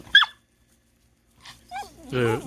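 A dog gives a brief high yip or whine at the start, then goes quiet, followed by softer whimpering sounds and a louder vocal burst near the end, close by during a backyard cook on a Blackstone E-Series griddle.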